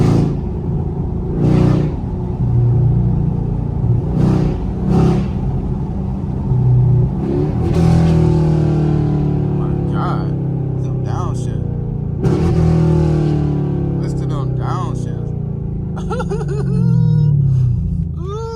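A Chevrolet Camaro SS engine revs hard in repeated rising surges over a low, steady idle rumble, loud and close, with people talking and laughing over it.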